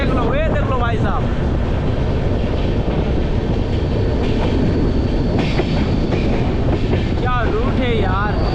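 The Chhattisgarh Sampark Kranti Express, running between Bilaspur and Bandra, rumbles loudly and steadily on the rails with clattering wheels and brief metallic squeals, recorded from on board.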